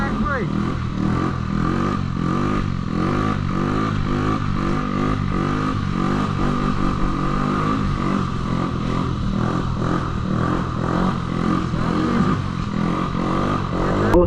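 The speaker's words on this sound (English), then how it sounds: "you can hear when the moped has the most power" A 50cc moped engine revs hard during a wheelie, its tone rising and falling in repeated rhythmic surges, with clattering mechanical noise running continuously and close.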